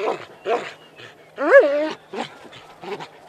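A police dog guarding its handler gives a series of short barks and yips with one longer whining yelp in the middle, close and fairly loud, in separate bursts.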